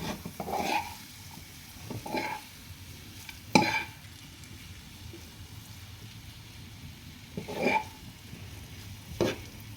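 Sabudana khichdi cooking in a pan on an induction cooktop, a soft steady sizzle broken by several separate stirring scrapes, close and fairly quiet with no talking.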